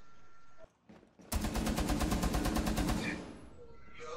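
Rapid automatic gunfire in Rainbow Six Siege rattles in a loud, close burst of about a dozen evenly spaced shots, preceded by brief quieter game sounds.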